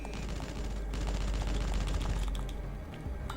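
Rapid, steady turret gunfire in Parasite Eve 2 forms a dense, clattering stream of shots that sits fairly quiet and unbroken across the whole stretch, with no talking.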